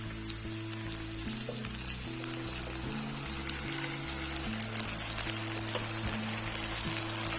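Tomato puree hits sizzling vegetables in a pan for homemade desi-style red sauce pasta, a steady soft crackling fry that continues throughout beneath gentle background music.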